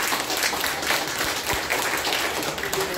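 Audience at a community forum applauding, a moderate, even patter of many hands clapping steadily from start to finish with no talking over it.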